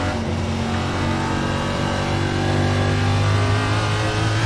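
Simulated NASCAR Cup car engine from iRacing at WWT Gateway, a steady loud revving drone holding high rpm throughout, with a slight swell near the end and no talking.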